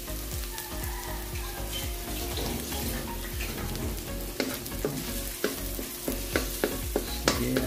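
Onion and garlic sautéing in a pan for a fish dish with oyster sauce, a steady close sizzle broken by repeated scraping stirs that grow sharper and more frequent toward the end.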